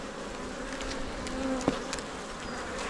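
Honey bees hum steadily around an open hive during an inspection, a dense continuous buzz with single bees passing close now and then.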